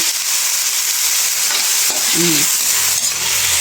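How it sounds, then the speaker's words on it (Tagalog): Bagoong shrimp paste sautéing in a pan for ginisang gulay, a steady hiss of frying running throughout with a brief stir scrape near the end, close and fairly loud. "Mas masarap kapag igigisa yung bagoong kamugay."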